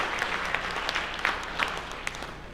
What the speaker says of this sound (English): That's a clap-worthy event too